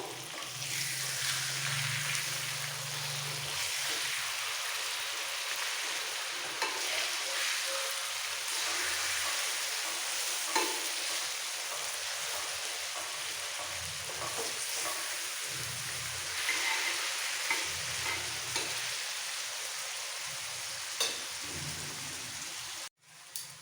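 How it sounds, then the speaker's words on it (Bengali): Chicken coated in masala fries on an open tawa, giving a dense, continuous rain-like sizzle throughout, with occasional faint stirring scrapes and no voices. "এভাবে ওপেন রেখেই তাওয়ার মধ্যে একটু কষিয়ে নিতে হবে"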